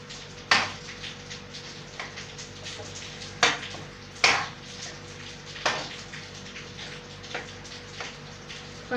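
Pasta being stirred into white sauce in a pan, a wet squelchy mixing with periodic sharp metal taps of a spoon against the pan, several distinct knocks spaced unevenly, close and clear, no talking.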